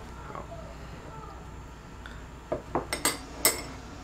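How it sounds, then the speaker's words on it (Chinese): A spoon clinks and taps against a Clever Dripper while stirring the bloom of coffee grounds, a short run of about five crisp metallic ticks after a quiet stretch. "用搅拌的汤匙去把上层的粉给拨开"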